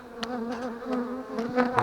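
Bees buzz close by at an abandoned apiary, a steady mid-pitched hum with individual insects swooping past in brief louder passes.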